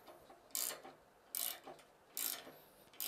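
A ratchet wrench clicks in four short bursts as it tightens a bearing puller, the ratcheting close and fairly quiet with pauses between strokes.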